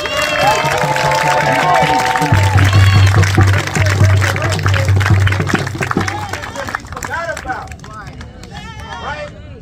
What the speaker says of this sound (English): Give this brother Rich a round of applause, another round of applause.